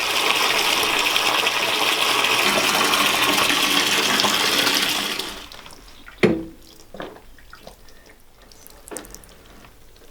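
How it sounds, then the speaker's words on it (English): Dirty wash water from a wool fleece gushes loudly and steadily into a bucket for about five seconds, then stops, followed by quieter splashes, dripping and a few knocks. "We've got our really dirty water here, and we're going to take this, put it into buckets, and pour it outside"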